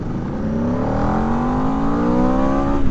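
A 2025 Aprilia RSV4 V4 sport motorcycle engine pulling hard, one long, smooth climbing rev with a deep, gruff growl heard up close and loud, building steadily to the end.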